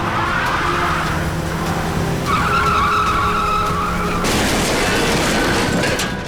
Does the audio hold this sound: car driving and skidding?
yes